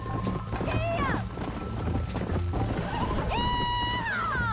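A horse gallops in the video game Red Dead Redemption, with rhythmic clip-clop hoofbeats, rising whinny-like calls and game sounds layered together, fairly close and steady throughout.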